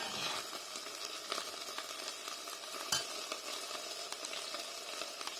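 Sauce for a healthy mac and cheese bubbling gently in a pan as it comes up toward the boil, a steady soft sizzle and simmer with scattered faint clicks and one sharper clink, no voices.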